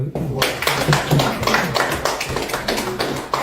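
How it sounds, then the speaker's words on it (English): An audience at a real estate book launch in Houston claps in distinct, sharp rhythmic hits, close and fairly loud, with a short quiet gap before it starts. "I thought you would clap."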